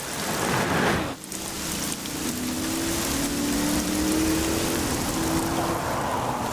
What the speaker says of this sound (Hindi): एक तो आज बारिश भी बहुत तेज है